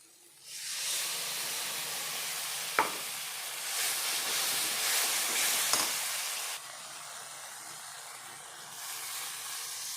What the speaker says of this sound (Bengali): এখন আমি ঝোল দিয়ে দিব, এখানে জল দিয়ে দিব